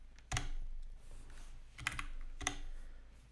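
A Linux chage command is typed on a computer keyboard: a few quiet, close keystrokes in small clusters with short pauses between, faint against a low background hiss.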